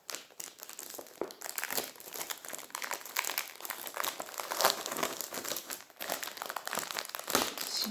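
A plastic-wrapped package of posters being opened, with steady loud crinkling and rustling of the plastic wrap throughout, close up and continuous with a few sharper crackles.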